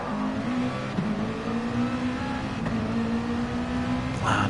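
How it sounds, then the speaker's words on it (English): Race car engine in a racing game at Spa, held at a steady droning note with shifts coming slightly early, a continuous loud hum that dips and changes pitch briefly before a short burst near the end. "You can hear the short shifting going on in Soul Foods' car, just changing a little bit earlier than what the car can do"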